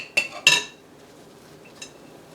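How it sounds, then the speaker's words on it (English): A utensil scrapes and clinks against a bowl holding cauliflower and ham patty mixture, two sharp metallic scrapes close together, then quiet and one fainter clink. "Gotta scrape it out of the bowl."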